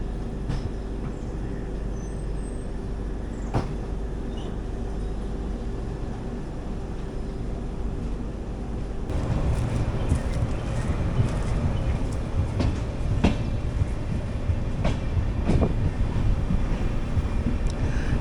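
The Kannur Express train rumbles and clatters as it departs Bantwal station, low steady rolling noise that grows louder and busier partway through, with wind buffeting the microphone.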